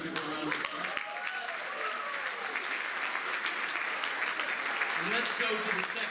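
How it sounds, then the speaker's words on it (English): Audience applause at a mentalist's stage performance after a mind-reading trick, continuous crowd clapping throughout, with voices talking over it. "Give her a round of applause"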